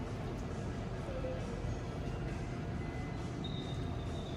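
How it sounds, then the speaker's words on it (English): A KTX Sancheon high-speed train arriving at a South Korean station gives a steady low rumble and rolling noise throughout, with faint high wheel squeals and a voice talking nearby. "Like this KTX Sancheon train, which arrived right now."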